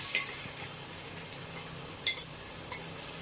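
Ginger garlic paste fries with onions in a pan for chicken biryani, a low sizzle under several sharp scrapes and clinks of a spoon stirring against the metal.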